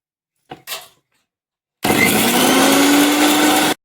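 An electric blender grinds green chillies with a loud, steady whirring roar lasting about two seconds, preceded by a few faint clicks and knocks as it is set up.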